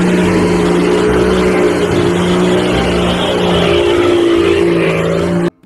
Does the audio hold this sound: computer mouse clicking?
no